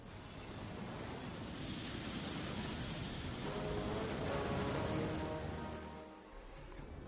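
Qiantang river tidal bore waves rushing in as a steady, broad roar of surf and churning water, continuous and fairly loud, easing slightly near the end.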